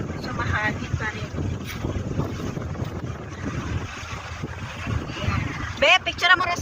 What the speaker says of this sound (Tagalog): So, mahangin pa rin.